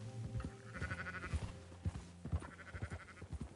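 Sheep in the game Red Dead Redemption 2 bleat in two drawn-out, wavering calls, close and clear over a low rumble of farm ambience.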